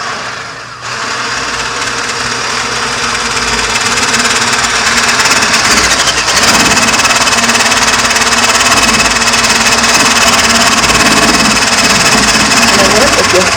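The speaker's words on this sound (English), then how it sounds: "whisk the egg whites until they're quite stiff" Electric mixer whisking egg whites until stiff, a loud, continuous buzzing motor drone that rises just after the start and runs on steadily, with talk faintly beneath.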